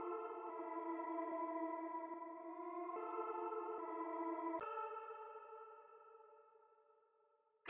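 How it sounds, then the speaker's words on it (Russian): Atmospheric synth pad for a super trap beat, sustained chords with low notes, washed in chorus and echo effects, swelling evenly then changing chord partway and slowly fading out, quiet and alone. "Четвертый пэт последний, он звучит примерно так, тоже имеет свой вайб, то есть низкие такие ноточки"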